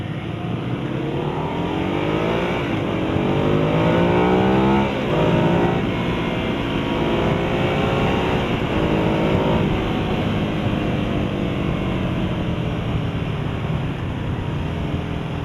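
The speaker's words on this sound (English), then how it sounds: "if you really twist the throttle, this thing has a lot of power" A 2015 Ducati Hypermotard 821 motorcycle accelerates hard under throttle, its engine note climbing through repeated rising sweeps as it pulls through the gears, loud and steady with wind noise throughout and no talk.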